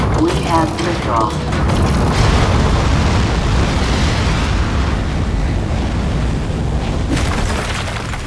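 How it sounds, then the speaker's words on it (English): A rocket lifts off in the video game Aperture Desk Job, a loud, sustained roaring rumble with mechanical rattling that builds after a brief opening and holds steady for several seconds before easing slightly at the end. "We have liftoff."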